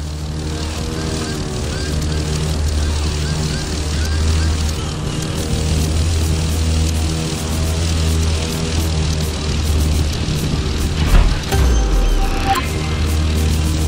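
A propeller airplane engine drones loud and steady in The Crew 2 racing game, with a brief surge and dip near the end.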